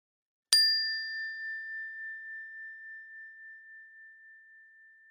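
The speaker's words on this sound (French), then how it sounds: "Maintenant, j'écoute le son du carillon, jusqu'au bout" A meditation chime is struck once and rings on as a single pure sustained tone, decaying slowly toward silence with no other sound around it.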